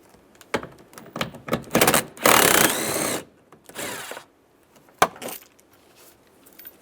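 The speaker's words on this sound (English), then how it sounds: "There's 2 10mm. We're going to take those out. Using a 10mm socket. Take those screws out." Ratcheting clicks from a 10mm socket wrench backing screws out of a 2007-2013 Chevrolet Silverado dash, in short close bursts with pauses between, one longer steady run in the middle, no talking.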